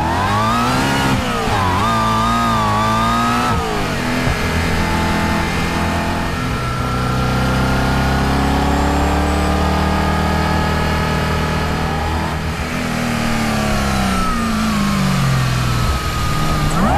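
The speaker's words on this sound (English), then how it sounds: "Man, you hear that supercharger whine as well." A supercharged stage 3 Audi RS4 revs and pulls hard from inside the car. A steady, loud engine drone rises and falls through the gears, with a high supercharger whine over it.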